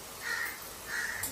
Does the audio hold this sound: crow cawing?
yes